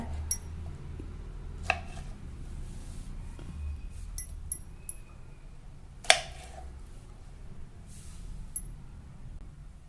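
Figs are cut with a knife on a board in a quiet kitchen, giving a few sharp, separate taps and clicks spread over several seconds, with soft background hiss and no talking.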